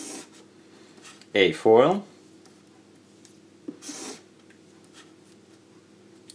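A pen scratches freehand across paper, drawing a stator for a stacked electrostatic loudspeaker, in two short bursts of scraping strokes. A voice talks between them.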